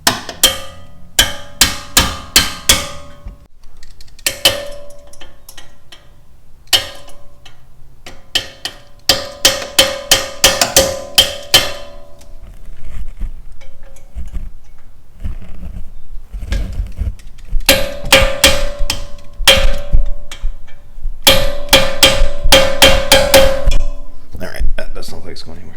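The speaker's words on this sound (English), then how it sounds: "I'm going to definitely tap this to make sure." Sharp metallic taps on a new front brake rotor fitted to an Alfa Romeo Giulia, ringing out in quick clusters of several strikes with short pauses between, close and fairly loud with a bright clang.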